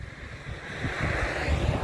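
Steady headwind rushing and buffeting against the microphone while cycling, a broad roaring gust that swells slightly louder toward the end, with no talking.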